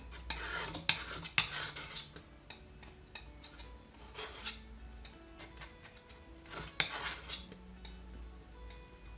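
A palette knife taps and scrapes through paint on a palette as a mix is darkened with Payne's grey, giving soft, irregular clicks and smears, close and quiet with no talking.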